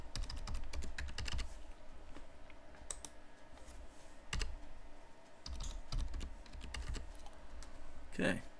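Password being typed on a computer keyboard during a Linux install: a steady run of close, crisp key clicks over a low room hum, with a louder flurry of keystrokes near the end.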